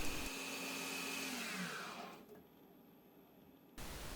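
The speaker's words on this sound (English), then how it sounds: "Maybe it's just the lathe jumping at 2700 RPM and cutting a thread." A CNC lathe spinning at 2700 RPM while cutting a thread in scrap brass gives a steady, fairly quiet machine whine that falls in pitch as it spins down, a short pause, then the hum returning.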